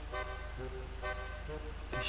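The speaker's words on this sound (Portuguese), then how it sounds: "Olha só as novas buzinas que foram adicionadas, a escala, né?" An Enus Huntley S in GTA V sounds a musical-scale horn: three short, tonal honks spaced about a second apart, each a clear pitched toot at modest volume over a faint steady hum.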